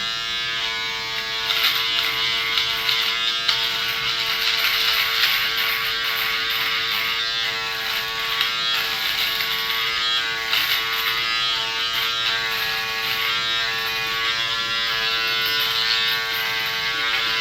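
An electric shaver for mustache and beard runs continuously up close, a steady high-pitched motor buzz with slight variations in tone as it moves over the hair, and no talk over it.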